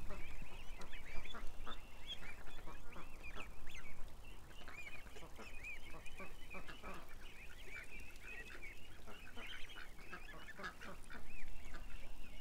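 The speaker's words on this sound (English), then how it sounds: "They're so friendly, these geese, this year." A flock of geese honks continuously and loudly close by outdoors, overlapping calls with duck-like quacks mixed in, while a person speaks softly under the birds.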